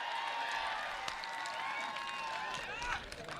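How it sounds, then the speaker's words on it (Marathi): Audience applause and crowd noise at an outdoor kushti wrestling match, scattered clapping under a bustling crowd and a voice on a loudspeaker, moderately distant. "करा की टाळ्या"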